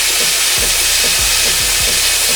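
The steam wand of a Breville Barista Pro espresso machine hisses loudly and continuously up close, with a few low thumps and gurgles underneath.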